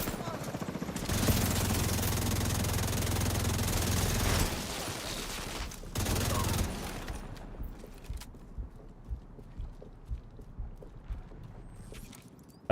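Gunfire in The Division 2: a loud, dense automatic burst lasting several seconds, a brief pause, then a shorter second burst, trailing into scattered lighter shots and thuds.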